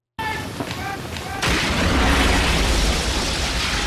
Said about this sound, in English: They were actually pretty close to that explosion.